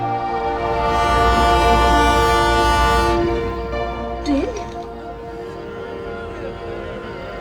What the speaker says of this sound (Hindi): ये ट्रेन पास आ रही है